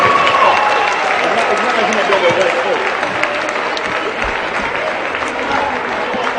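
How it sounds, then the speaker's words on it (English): A gym crowd at a high school basketball game applauds alumni players, a loud, continuous roar of clapping and cheering with voices mixed in throughout. "Can we get a round of applause for all these wonderful alumni players?"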